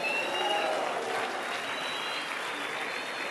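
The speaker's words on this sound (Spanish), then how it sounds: "denle un aplauso al Rey bendito." A church congregation applauds during a Sunday service, a dense and steady burst of clapping from many people that carries on evenly throughout.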